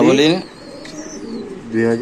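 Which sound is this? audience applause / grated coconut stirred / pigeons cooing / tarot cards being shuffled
pigeons cooing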